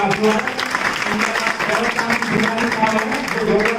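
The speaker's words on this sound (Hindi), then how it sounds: "मैं कहता हूं इनके लिए भी एक तालियां बजाते हैं" Audience applause at a welcome ceremony for a women's police station officer and a Sindhi community panchayat leader, fairly loud and steady clapping with some voices audible beneath it.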